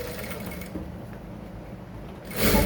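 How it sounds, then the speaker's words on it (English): Sewing machine topstitching a single welt pocket, a close mechanical whirring and ticking at a steady pace, rising briefly louder at the end. "Top stitch all through."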